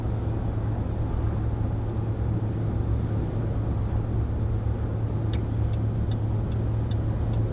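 A 2010 Range Rover Sport 3.6 TDV8 HSE cruising on the road under adaptive cruise control, with a steady low diesel drone and constant road and tyre rumble from inside the cabin, no voices.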